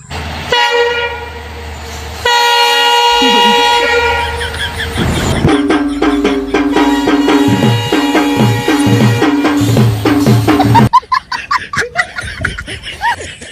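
Train sound effect played for a train dance game in a Gujarati village comedy: sustained horn-like toots, then a rhythmic clattering rumble of carriages, loud and close, breaking into choppy bursts near the end.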